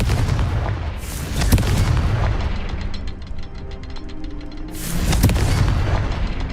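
Spell blasts from Confringo in the Hogwarts Legacy video game, loud booming bursts clustered early and again near the end, separated by a stretch of rumbling crackle, with no voices.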